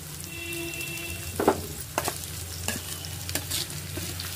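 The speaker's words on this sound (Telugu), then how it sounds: "కొంచెం కరివేపాకు, ఒక ఉల్లిపాయ తరిగి వేసుకుంటున్నాను." Curry leaves and chopped onion fry in a pan with a soft, steady sizzle, punctuated by a few stirring scrapes and clinks, fairly quiet with no talking.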